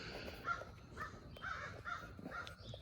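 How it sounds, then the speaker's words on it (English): A crow caws repeatedly outdoors in duck-hunting season near a yard with tractor tires, giving a steady series of about six harsh caws at mid-distance over a constant background hiss. "duck hunters must have scared the crow too"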